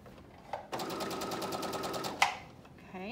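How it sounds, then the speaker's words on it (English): A sewing machine stitches knit fabric for a headband in one steady, fast-running burst of about a second and a half. It starts and stops sharply, and the room is quiet around it. "Just gonna keep stitching. Keeping the edge of my fabric in line with the edge of the presser foot."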